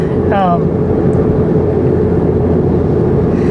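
Low, steady exhaust drone from a Honda Civic Si (FA5) fitted with an A'PEXi WS2 Noir exhaust, cruising in sixth gear at about 3,000 RPM and 63 mph; a constant cabin hum with a brief voice near the start.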